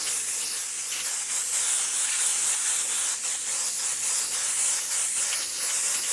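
Airbrush spraying pink paint onto a T-shirt stencil outline, a steady close hiss running unbroken for several seconds, with faint texture and no talk.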